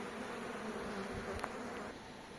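Bees hum in a soft, steady drone during the transfer of swarms into a hive, faint and continuous with no other sounds standing out.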